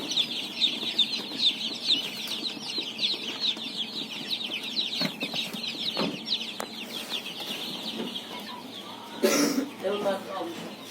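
Chicks and chickens in a poultry yard with incubator-hatched young birds, a dense continuous chorus of high peeping and clucking close by, broken by a brief flutter near the end.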